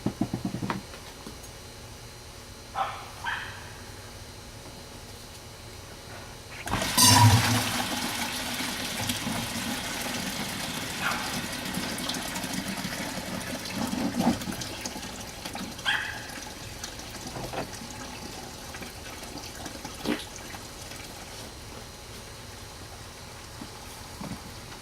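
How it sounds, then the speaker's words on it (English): Coolant water splashing and trickling out steadily from a 2000 Ford F350 7.3 PowerStroke after a sudden gush, continuous draining noise with occasional clanks nearby. "I'm gonna have to let out some more water."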